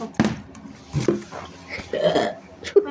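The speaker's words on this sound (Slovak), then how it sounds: "A ty čo grgáš?" Several loud burps at home, short guttural bursts spaced through the moment, with people talking and reacting around them.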